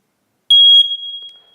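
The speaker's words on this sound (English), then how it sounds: "These really neat smoke alarms," Kidde smoke alarm sounding its test beep: a single piercing high electronic tone lasting about a third of a second, then ringing away in a quiet room.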